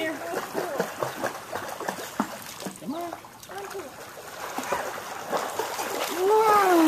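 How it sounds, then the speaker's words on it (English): A child jumps and splashes into a neighborhood swimming pool, with several watery splashes among excited children's voices and adult chatter, close by. "Splash."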